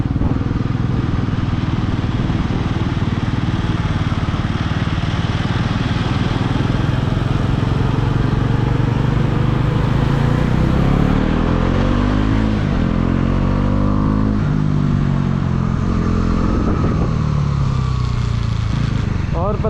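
Motorcycle climbing a mountain road, its engine running steadily and close throughout, with rising and falling revs as the bike works uphill and a voice talking over it.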